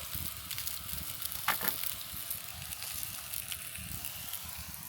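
Breakfast frying in a pan as food sticks and burns, a steady close sizzle and crackle with a few brief scrapes, no talk.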